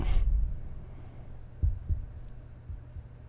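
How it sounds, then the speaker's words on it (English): In a Resident Evil 7 trailer, a low heartbeat gives a single soft double thump, lub-dub, against a quiet, dark background hum. "I like the heartbeat sound."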